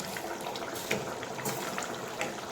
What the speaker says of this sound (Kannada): ನೋಡಿ ಹೇಗೆ ಕುದೀತಾ ಇದೆ